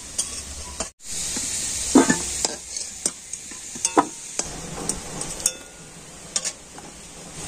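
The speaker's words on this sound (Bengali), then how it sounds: "তো দেখুন ওই তেলের মধ্যে ফোড়না দিয়ে দিচ্ছি, একটা তেজপাতা, একটা শুকনো লঙ্কা দিয়ে দিচ্ছি, গোটা জিরে" Bay leaf, a dried red chilli and whole cumin seeds sizzle in hot oil, with a steady frying hiss broken by several sharp spits and clinks of a utensil stirring against the pan.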